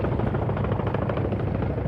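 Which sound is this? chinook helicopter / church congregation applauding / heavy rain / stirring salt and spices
chinook helicopter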